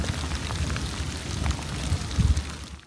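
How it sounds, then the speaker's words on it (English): Rain and wind from a coastal storm, a dense wash of falling rain with gusty rumbling swells, loudest briefly near the end, with no speech. "And plenty of rain and wind all across the coast."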